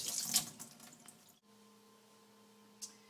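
Running tap water rushes loudly over lentils in a sieve for about a second and a half, then cuts off, leaving a low steady hum with one faint splash.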